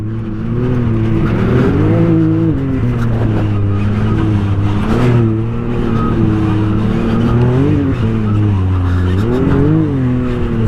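Can-Am Maverick side-by-side tearing along an off-road track, its engine droning loud and close with rising and falling revs and repeated surges of acceleration throughout.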